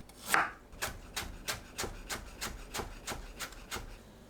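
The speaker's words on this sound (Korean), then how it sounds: "생강을 채 썰어줍니다." A rapid, steady run of about a dozen knife strokes julienning ginger taps against a wooden cutting board, close up, with no talking.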